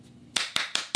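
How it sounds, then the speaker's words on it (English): A few sharp, loud hand claps, four in quick succession after a brief quiet start, recorded close up on a front porch during an acoustic session. "I only need one clap."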